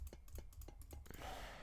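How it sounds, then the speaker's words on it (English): Quiet keyboard typing, a handful of soft separate key clicks in an uneven rhythm, then a faint rustle and breath as the keystrokes stop. "what am I even typing?"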